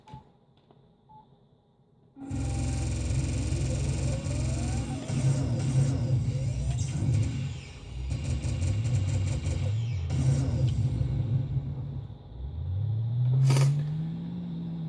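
Car in a racing game played on a Compaq DeskPro 5100 PC, a synthesized engine roaring up after a quiet start, droning with pitch shifts and rising at the end, along with bright electronic tones.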